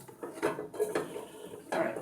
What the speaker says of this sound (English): I'm putting the macaroni back into the pot.